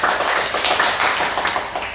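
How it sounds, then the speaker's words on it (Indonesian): A talk-show audience applauds a guest, a former casino dealer on a cruise ship, with dense, steady clapping that fills the whole stretch at close range. "boleh tepuk tangan yang meriah buat Kak Sonya"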